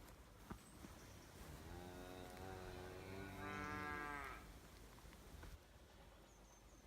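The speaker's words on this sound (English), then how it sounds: "There's the cows in the field." A single cow moos in a rural Scottish Highlands field, a long, drawn-out low call heard at moderate distance over a steady outdoor background.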